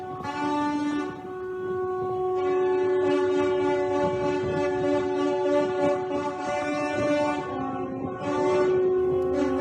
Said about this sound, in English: All right, Seth, we hear all the horns honking, lots of the tugboats there, the dredgers that were trying to move this.